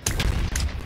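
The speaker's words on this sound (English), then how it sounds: "Bro stood all the way over there just to fire that fireball?" Fireball fired in Roblox Bedwars, heard as two sharp booming blasts in quick succession, loud and close, each with a short rumbling tail.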